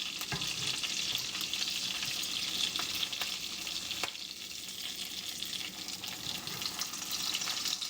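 Bacon-topped parmesan salmon frying in a pan after being flipped, giving a constant bright hissing sizzle with faint crackles and a few soft clicks, close and unbroken, with no talking.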